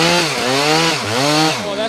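A chainsaw runs loud and close, its engine droning steadily with small rises and dips in pitch as it works through wood.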